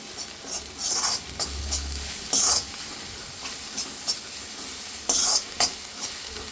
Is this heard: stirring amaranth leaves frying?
yes